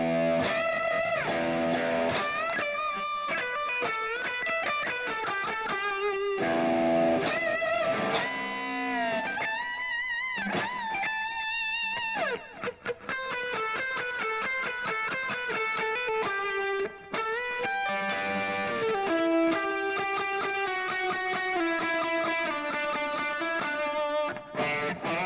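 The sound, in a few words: electric guitar playing second half of a song solo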